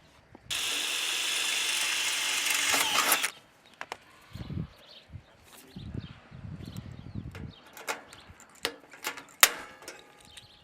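A riveting tool fastens a connection duct onto the end of a T-duct for an OekoTube-Outside flue, a loud close rasping burst about three seconds long, followed by scattered metallic clicks, clacks and low handling thumps.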